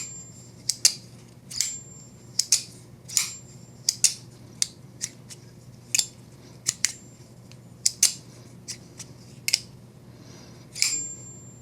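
A Winter Blade Co Factor B2 folding knife, version 2 and brand new, is flicked open and shut over and over, giving sharp metallic snaps and clicks in an uneven rhythm, close and crisp, with no talking.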